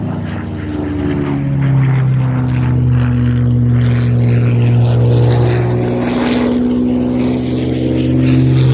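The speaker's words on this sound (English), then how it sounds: "Spitfire positioning downwind of that." A Spitfire propeller aircraft passes overhead at Shuttleworth, a loud, steady droning engine roar with a deep throbbing tone that holds strong throughout.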